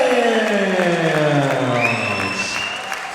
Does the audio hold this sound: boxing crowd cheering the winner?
yes